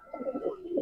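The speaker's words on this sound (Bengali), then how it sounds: "খুবই সুন্দর কবুতর আবলুর।" Ablu pigeons cooing in a colony, a run of soft low rolling coos close by, steady and unbroken for the brief moment, with no voices.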